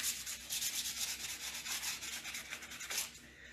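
Steady, rhythmic rasping of sandpaper scuff sanding a wooden end table before painting, rubbed back and forth close up, with no voices.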